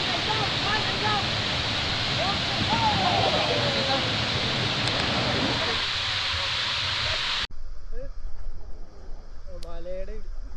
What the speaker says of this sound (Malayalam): മലയുടെ ഇടുക്കിൽ വെള്ളം വീഴുന്നുണ്ട്